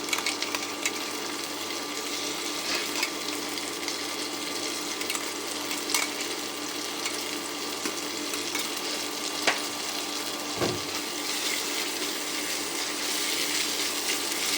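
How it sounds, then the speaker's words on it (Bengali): Onion and ginger paste frying in a pan, a continuous even sizzle with faint crackles and a few sharp scrape or tap sounds, steady at moderate loudness with no talk. "ভালো করে আদাটা ভেজে নেব"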